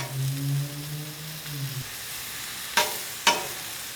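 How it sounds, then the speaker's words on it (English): Ground chicken with caramelized onions frying in a pan, a soft steady sizzle under a fading low tonal hum, then two sharp stirring scrapes as the meat is mixed. "I'm gonna go ahead and just throw those in the chicken. Take that chicken to Flavor Town, just mix it up."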